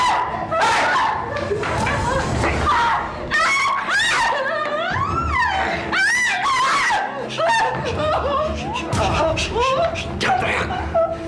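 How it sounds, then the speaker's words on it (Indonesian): A woman screams in a tense Indonesian TV drama scene, with shrill, pitch-sliding cries rising and falling over several seconds amid other voices and background sound. "Jangan teriak."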